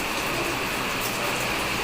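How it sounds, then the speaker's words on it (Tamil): Heavy rain pours steadily at an outdoor garden, a dense, even hiss of falling drops that fills the whole moment without pause, loud and close with no voices. "நல்லா மழை பெய்ஞ்சிக்கிட்டு இருக்கு."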